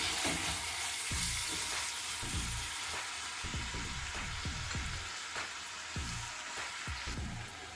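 Tomatoes with turmeric cooking in a pan for rasam, giving a close, steady sizzle with crackling pops and repeated stirring scrapes throughout.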